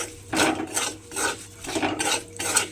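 Turmeric and chili powder being sautéed in a pan, the spatula scraping in rhythmic strokes, about four rasping passes in close succession, near and clear with no talk.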